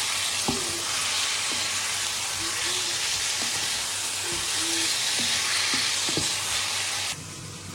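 Fish pieces being stir-fried in a spice masala in a pan, giving a steady close sizzle with scattered scraping stir strokes throughout, easing slightly near the end.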